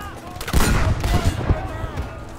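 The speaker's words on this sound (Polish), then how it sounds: "Dobra, to jest potężna rakietnica." A rocket launcher firing in Battlefield V, a loud blast with a heavy booming tail and scattered explosive cracks, all over a busy battle din.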